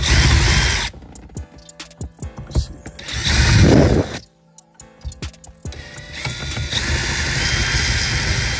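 A ratchet wrench clicks in quick bursts while a bolt is removed during parts teardown on a Cadillac Fleetwood, with short pauses between runs of close, sharp ratcheting.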